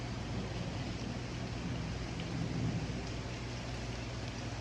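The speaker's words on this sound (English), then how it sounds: "Rain and thunder, beautiful." Steady heavy rain pours down during a storm under a tornado warning, with a low rumble of thunder rolling through the middle, a constant wash of close, dense drops and no talking.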